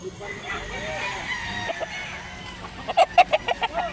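Chickens cluck and a rooster calls in a short burst near the end at a rainy chicken market, over a soft outdoor background with a faint voice.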